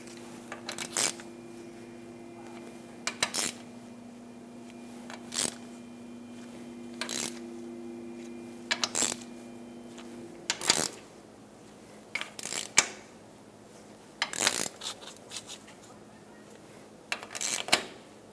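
Hand tools tighten rear axle bolts on a 1978-1987 Chevrolet El Camino in a cross pattern, giving faint intermittent metallic clicks and ratcheting ticks spaced a few seconds apart against a quiet background.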